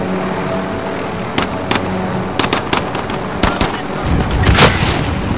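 Sharp gunshots crack in quick irregular bursts over a dense, noisy battle din in a Call of Duty match, with heavier explosive rumble building near the end.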